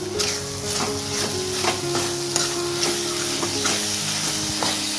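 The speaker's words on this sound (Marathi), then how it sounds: "मी काजू आणि चारोळे आणि वेलची आणि जायफळची पावडर टाकून देते कारण मग चांगली त्याच्यामध्ये परतून जाईल ना म्हणून" Cashews, charoli, cardamom and nutmeg powder sautéing in a pan for carrot kheer, a steady close sizzle under repeated stirring scrapes at an even pace, with no one talking.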